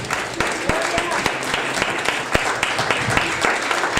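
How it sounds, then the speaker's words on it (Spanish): A congregation at a church service breaking into loud, sustained applause, dense clapping from many hands close by with a voice speaking over it. "Dale un fuerte aplauso al que vive dentro"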